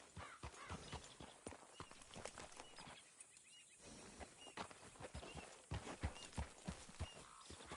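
Horse hooves clip-clop at a steady walking pace in the Red Dead video game, close and clear, with ambient game sounds around them.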